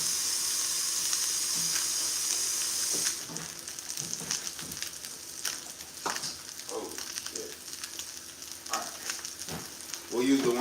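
Salmon fillet sizzles steadily in a hot pan, a loud continuous frying hiss with scattered pops and spatters, plus a few clinks and a brief voice over the sizzle.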